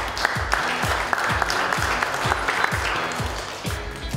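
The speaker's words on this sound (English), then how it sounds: "a big thank you to the contestants and a big warm applause." Audience at a bakery barista competition applauding the contestants, a steady wash of clapping over a few seconds with some louder thumping beats mixed in.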